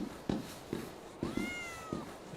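Cat meowing in the video game A.I.L.A, one drawn-out meow in the middle, quiet, between soft regular footstep thuds.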